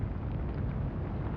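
Warship guns firing in the naval game Atlantic Fleet, as a German cruiser shells an enemy cruiser. A dense, steady low rumble of gunfire and blasts fills the whole brief moment without a break, and no one speaks.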